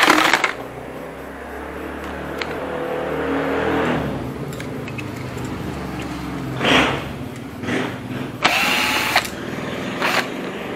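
Tools working a stubborn screw loose on a Honda, with scattered metallic clicks, scrapes and rattles at close range, broken by a couple of louder bursts of clattering.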